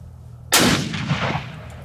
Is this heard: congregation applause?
no